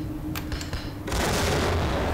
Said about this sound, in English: let me throw a grenade